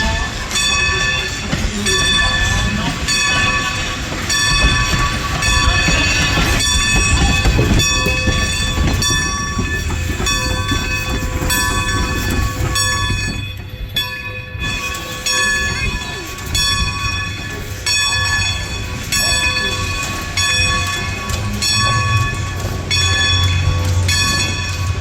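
Strasburg Railroad steam locomotive 90 running around its train at the station, a steady loud rumble of rail noise with a sustained whistle-like tonal sound throughout and a brief dip midway.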